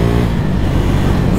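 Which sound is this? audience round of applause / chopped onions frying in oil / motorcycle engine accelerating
motorcycle engine accelerating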